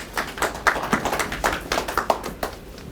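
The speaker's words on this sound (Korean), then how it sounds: "박수 부탁드립니다" An audience at an indoor forum on urban community movements clapping, a brief burst of fairly close, even applause lasting a few seconds.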